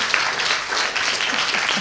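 An audience applauds as a science event panel walks in, a dense, continuous wash of clapping hands at steady volume, with a faint voice or two underneath.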